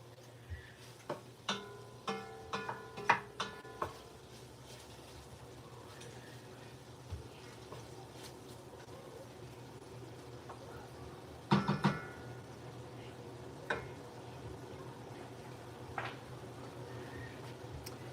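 Kitchen range hood fan running with a steady broadband whoosh while brisket chili cooks, with scattered clicks and knocks of cookware near the start and again midway.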